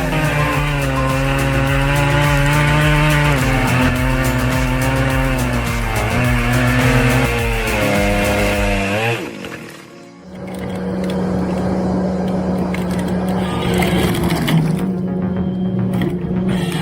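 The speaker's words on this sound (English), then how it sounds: "With the Makita DCS 9010 chainsaw in hand, he's slicing the freshly felled tree into thin layers" A Makita DCS 9010 chainsaw slices a freshly felled tree into thin layers. The engine holds a loud, high buzzing whine, sags and briefly drops off midway, then roars back steadily.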